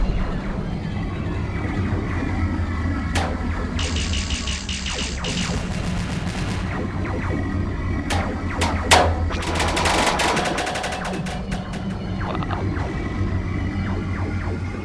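Bursts of rapid synthetic spaceship cannon fire in X-Wing Flight crackle over a low humming drone, coming in several clustered volleys with short gaps between.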